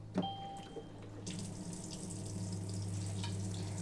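An Ivyel alkaline water ionizer gives a short electronic beep, then its faucet opens and water runs in a steady, close hiss that continues to the end.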